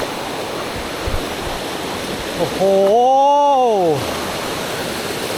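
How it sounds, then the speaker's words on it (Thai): A very tall waterfall in a rainforest pours with a constant, full roar, and partway through a man lets out a brief drawn-out exclamation over the rushing water. "ข้างล่างนี้ น้ำตกโคตรสูง"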